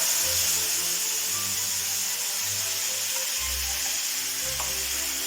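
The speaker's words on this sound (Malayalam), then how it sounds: "അപ്പോൾ നമ്മളുടെ കടുകൊക്കെ പൊട്ടി നമുക്ക് അതിലേക്ക് ഈ പച്ചടി കുറച്ചാണ്ട് ഒഴിച്ചു കൊടുക്കാം" Mustard seed tempering in hot oil sizzling as pumpkin pachadi is poured into it, a steady frying hiss with low crackles throughout, heard alone without talk.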